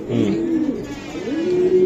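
A racing pigeon coos in two soft, rolling phrases close by, a low throaty warble rising and falling.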